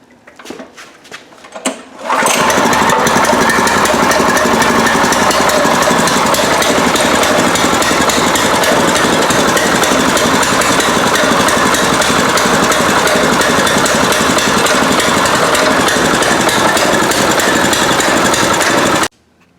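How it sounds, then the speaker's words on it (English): A 7hp engine on a custom mini bike catches after a few quiet seconds and then runs loud and steady at a constant roar for most of the clip before cutting off. "So let's go ahead and turn this thing on."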